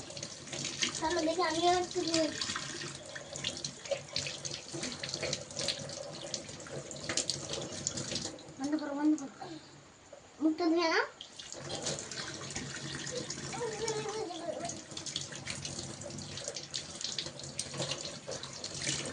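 Water running from a household tap into a sink as a child washes her hands, a steady rushing flow that briefly drops off mid-way and resumes, with voices talking over it.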